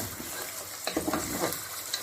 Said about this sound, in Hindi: रह गया बिच जिंजर ते गार्लिक, इनू भुन लो थोड़ा जा।